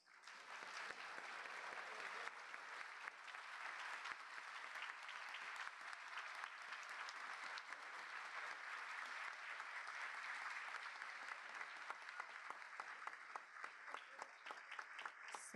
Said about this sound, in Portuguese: Neste momento, uma salva de aplausos aos agraciados